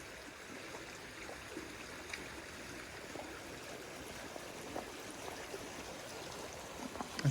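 A creek on the Appalachian Trail flows steadily with a constant rushing, burbling wash of water, fairly close and alone with no voices.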